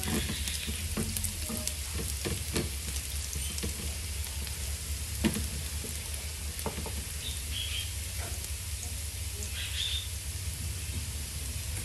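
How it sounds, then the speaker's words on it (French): Sausages fry for rougail saucisse on a hotplate at full heat, with a loud, dense sizzle and crackle that runs unbroken, plus a few spatters and stirring knocks and no speech. "On va rougir un petit peu, c'est bien frire."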